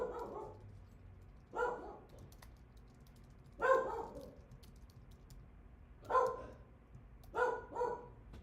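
A dog barks in five spaced single bursts, fairly close and loud, with quiet gaps between them and no talk.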